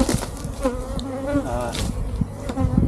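Bees buzz steadily around a farm hive in a silvopasture setting, a close, continuous insect drone with wavering pitch and occasional louder passes as individuals fly near.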